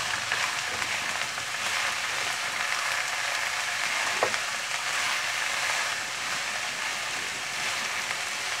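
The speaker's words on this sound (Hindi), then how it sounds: "तो प्याज भी इसके साथ फ्राई हो थोड़े से ना।" Chopped okra and onions fry in a pan with a steady, dense sizzle and crackle that carries on without a break throughout. A single brief click sounds partway through.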